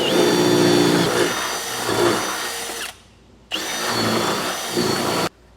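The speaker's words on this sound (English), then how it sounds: "now I'm going to drill through the top on this one" A power drill bores through the top of the frame on a 2021 Chevrolet pickup truck during a hitch install, with two loud sustained whining runs separated by a short pause.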